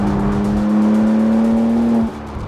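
A 2023 BMW M2 with an inline-six engine, driven in Arizona, holding a loud, close, steady engine note that climbs slightly, then drops off abruptly near the end as the throttle lifts.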